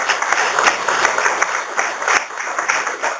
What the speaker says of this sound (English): Let's hear a big round of applause for that.